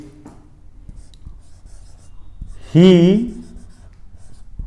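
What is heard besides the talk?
writing a sentence by hand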